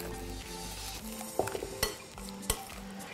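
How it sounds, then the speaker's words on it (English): Natural yogurt is stirred in a bowl, giving soft repeated scrapes and a few light clinks of a spoon against the bowl's sides over a low background hum. No speech is heard. "Give that a good little stir around."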